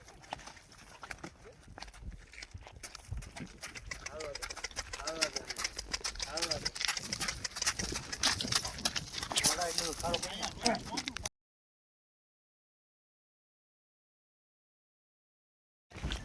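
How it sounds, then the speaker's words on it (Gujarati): A horse is ridden with the reins in hand, its hooves producing a rhythmic clip-clop on hard ground alongside light background noise, fairly close and steady before the sound abruptly cuts to silence. "કેવો ઘોડો હાલે જોવી આપણે."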